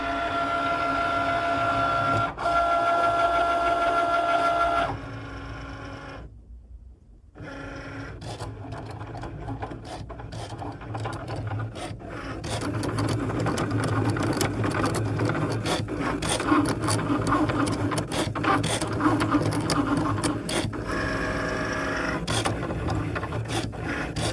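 A Cricut Maker cutting machine runs with mechanical whirring and rapid scraping, clicking movements, stopping briefly before resuming busily for a long stretch, near and without talk.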